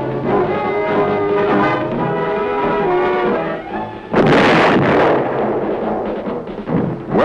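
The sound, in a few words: gunfire at moving targets on Aberdeen firing range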